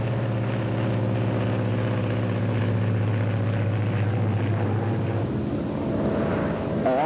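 A propeller airplane engine drones steadily and loudly during a spin recovery, its deep layered hum holding for several seconds before the pitch shifts and changes tone near the end.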